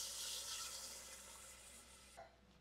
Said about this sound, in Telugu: ఇప్పుడు నేను ఈ 2 గ్లాసెస్ వాటర్ కూడా యాడ్ చేయాలి